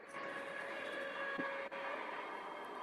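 A model locomotive with a plastic body running along its track, a steady close mechanical hum with a faint whine and a single small click partway through.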